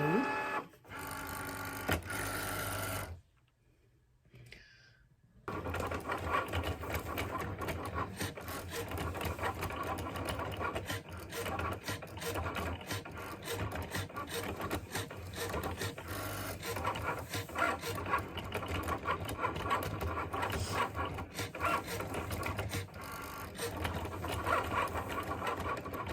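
Cricut cutting machine working through pink glitter material, a brief whir and a pause giving way to a long, steady, rapid mechanical rasping and clicking of the blade carriage that runs close and continuous.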